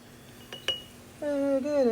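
A tablespoon clinks against a glass holding fresh squeezed lemon juice, two quick bright taps close together, followed by a voice starting to speak.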